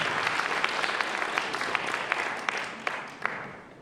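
An audience applauds a historical palio group at an Italian theatrical evening, steady dense clapping from many hands with a few sharper individual claps, moderately loud and without talk, fading slightly toward the end.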